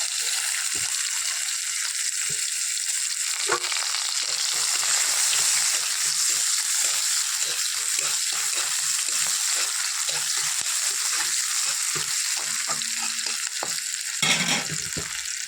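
Green chilies, whole cumin seeds and chopped onion sizzle steadily in a pan for fenugreek greens, a loud close frying hiss throughout with occasional stirring scrapes and a brief louder clatter near the end.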